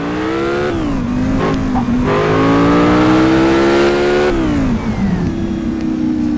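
A motorbike races at top speed in the video game Gangster Vegas, its engine roaring loud and continuous, the pitch climbing and dropping through gear shifts, with no talk.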